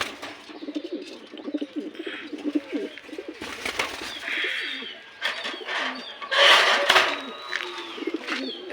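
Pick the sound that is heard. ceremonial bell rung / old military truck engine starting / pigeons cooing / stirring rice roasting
pigeons cooing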